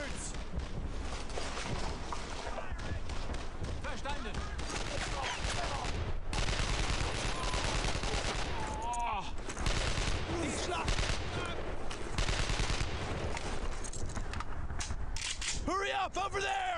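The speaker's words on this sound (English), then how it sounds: "I need suppressing fire." Sustained suppressing gunfire in the World War II shooter Brothers in Arms: Earned in Blood, dense rapid rifle and machine-gun bursts with scattered louder shots, mixed with shouted voices and whizzing sounds.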